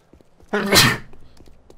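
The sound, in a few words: sneeze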